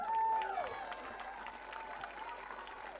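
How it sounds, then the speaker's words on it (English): Applause and cheering from the crowd at a club awards night, a steady wash of clapping that runs throughout with voices and whoops mixed in. "So a massive cheer for June and Dan and Helen."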